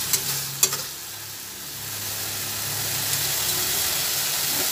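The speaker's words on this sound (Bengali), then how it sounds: "এরপরে যে পটল আর আলুটা ভেজে রেখেছিলাম সেটা এই তেলের মধ্যে দিয়ে দিলাম।" Pre-fried pointed gourd and potato drop into hot oil, a brief clatter as they land, then a strong, steady close sizzle with a hissing wash that holds evenly to the end.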